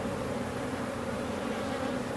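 Honeybees swarm an opened hive full of burr comb, making a dense, steady buzzing drone that stays close and loud throughout, with no voices.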